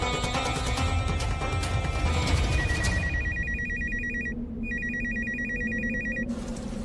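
A telephone rings with a repeating electronic bell tone, two ring bursts heard over a dense dramatic music bed in a Hindi TV serial scene, with no talking.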